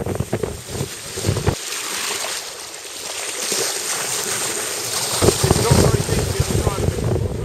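Wind buffets and roars across open water in gusts near Hurst Point during the 2017 Fastnet sailing race, with rushing sea noise and faint thumps from a boat.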